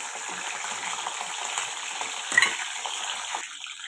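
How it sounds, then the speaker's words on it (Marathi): Eggplant pieces frying in a few spoons of oil in a pan for a Maharashtrian masala vangi, a steady close sizzle with a brief clatter of stirring near the middle. "आता हे वांगे मी तेलामध्ये असे तळून घेते।"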